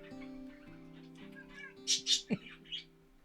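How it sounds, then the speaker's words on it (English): A cat meows close by, two or three short, rising cries near the end, over a steady low hum with faint chirps mixed in. "we can't ignore the cat"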